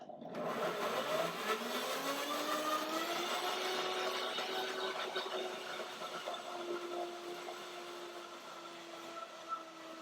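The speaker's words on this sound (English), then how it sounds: "blender dance." A blender blending fruit for mango ice cream whirs steadily, its motor pitch rising as it spins up and then holding a loud, continuous whine.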